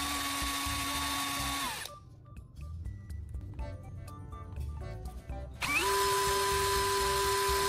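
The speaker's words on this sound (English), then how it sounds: "I then mount the carbon rod into my drill and use sandpaper to meticulously sharpen one end" A power drill spinning a carbon rod against sandpaper whines loudly at a steady high pitch, cuts out into a quieter stretch of scraping and rattling, then spins back up at full speed.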